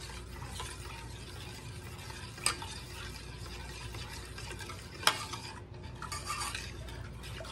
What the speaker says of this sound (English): Now, let's get that stirred up together.